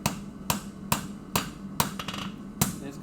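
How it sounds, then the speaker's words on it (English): A blacksmith's hammer strikes metal on an anvil while forging an angle near the anvil's edge, six or seven sharp, ringing blows at a steady rhythm, each about half a second apart, close and fairly loud. "when you're forging an angle, you want to go all the way to the edge of the anvil and hold your hammer at the angle"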